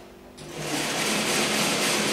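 A sewing machine stitches fabric for a baby's bath cape, starting abruptly after a quiet moment and then running as a loud, steady, rapid mechanical whir close by.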